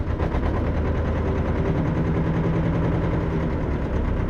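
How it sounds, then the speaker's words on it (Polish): A car engine idles and is revved to wake the alternator during a battery and alternator test, a loud, steady low rumble with a rough, pulsing texture throughout. "Trzeba dodać gazu, budzić alternator."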